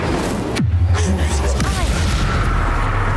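Incendio fire spell cast in Hogwarts Legacy, a loud deep boom and whooshing burst followed by a roaring rumble, with a voice speaking over it.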